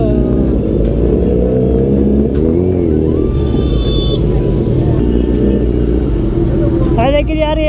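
A Kawasaki Z900 superbike idles and revs nearby with a deep, throaty exhaust rumble, the pitch rising and falling, while someone talks over it.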